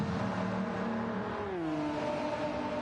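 Race car engines from Gran Turismo 7, including a Bugatti, drone steadily with harmonic tones that drop in pitch midway as the car shifts or slows, a continuous close engine note with no talk.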